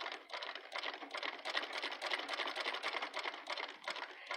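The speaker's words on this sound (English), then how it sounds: "Now this treadle is quieter anyway than my Singer." A treadle sewing machine running steadily, giving a dense, even rapid clatter of the needle mechanism with a continuous mechanical whir, close up and with no speech.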